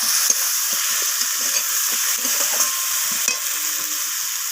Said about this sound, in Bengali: এখানে পেঁয়াজ আর টমেটোটা ভাজা হয়ে গেছে এরপর এখানে মশলা অ্যাড করে দিলাম প্রথমে দিলাম হলুদ গুঁড়ো